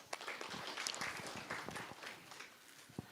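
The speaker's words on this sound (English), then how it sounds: "A round of applause, please." Audience applause at an audit workshop, a scattered patter of hands clapping at moderate distance, fairly faint and uneven for a few seconds.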